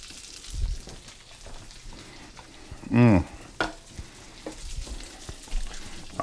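Three sausages frying on a stove burner, a soft continuous sizzle with faint crackles, broken by a brief louder scrape or clatter midway and a few low thumps, fairly close.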